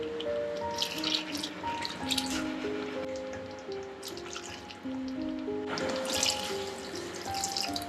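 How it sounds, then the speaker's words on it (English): Hot water pours into a pan of Goan chicken curry with its cooked masala, a steady bubbling, gurgling stream with rising trickling tones as the pan fills, continuing through the whole stretch. "Now we'll add hot water."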